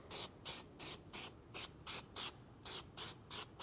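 Short hissing bursts from an aerosol can spraying Plasti Dip onto a fog light of a 2024 Sierra, about a dozen quick sprays in a steady rhythm, close and fairly quiet.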